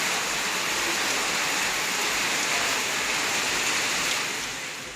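Heavy rain falls in Tamil Nadu, a loud, unbroken roaring wash of water close by that holds steady for several seconds before easing slightly at the end.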